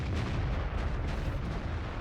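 An artillery gun fires a shot in World of Tanks, a dense low booming blast that fills the whole moment with rumbling noise, loud and unbroken, with no voice over it.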